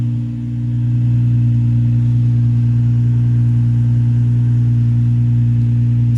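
Nissan 350Z engine running steadily while driving at night after an accelerator pedal sensor replacement, a loud, constant low drone with a dip at the start before settling into a smooth, even tone; no one speaks.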